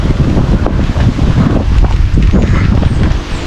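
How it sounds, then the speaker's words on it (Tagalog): Strong wind roars steadily in the dark rural countryside, carrying rain with it, a loud continuous rush that buffets the microphone with gusts for the whole stretch. "Yun, grabe, lakas ng hangin."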